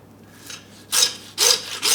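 A butcher hand-saws through the blade bone on a side of beef, giving three loud rasping strokes, each roughly half a second long, with short pauses between them.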